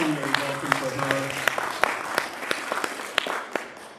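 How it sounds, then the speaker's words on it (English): A congregation at a Sunday service applauds, a steady wash of clapping with sharp individual claps standing out. A voice briefly overlaps at the start before the applause carries on alone and tapers off. "So let's give a preliminary clap for Desiree."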